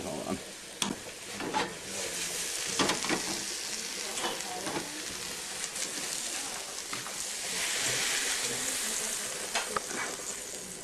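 Fish frying in a pan gives a constant loud sizzle with crackling pops and occasional stirring scrapes, with no talk over it.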